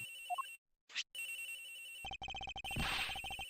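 A cell phone ringtone plays inside a locker, a clear electronic melody of repeated rapid beeping tones broken by short pauses, fairly loud and with no talking.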